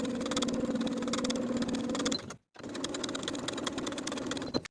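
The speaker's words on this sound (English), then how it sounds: "Sew the bias tape to its seam allowance underneath with 1/8 of an inch seam allowance from one side all the way" Sewing machine understitching bias tape to the seam allowance on a peplum top, a continuous rapid whirring chatter that cuts out for a moment, then restarts and runs evenly to the end.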